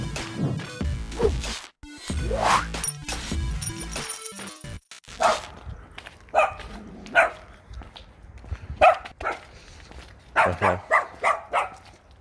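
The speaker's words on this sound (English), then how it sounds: "I hate small little dogs like that who are barking for no reason" A small dog barks repeatedly in short, sharp yips, loud and close, with a few quieter pauses between bursts.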